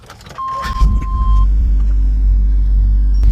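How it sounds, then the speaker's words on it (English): A 1999 GMC 3500 1-ton dually truck engine cranks briefly and catches, then settles into a loud, steady low rumble of idling close by. "I'm going to go ahead and start the vehicle."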